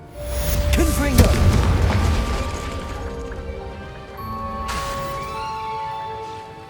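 A Confringo spell from Hogwarts Legacy bursts with a loud, booming blast near the start, its crackling fire and rumble trailing off under steady game ambience and music.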